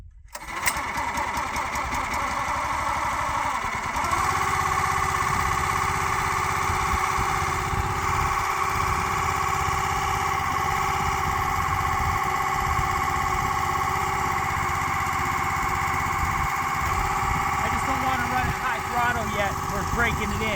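A small engine with the choke on catches and settles into a loud, steady, buzzing run that continues close by for the whole stretch, with a voice speaking faintly underneath.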